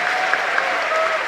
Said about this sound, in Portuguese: dá uma salva de palmas muito maior do que essa